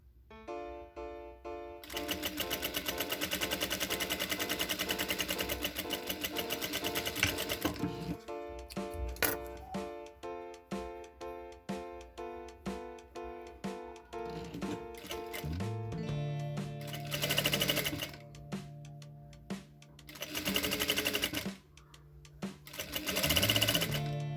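A sewing machine stitches a seam, running in a long steady burst before breaking into shorter start-stop runs with brief pauses toward the end, close and fairly quiet.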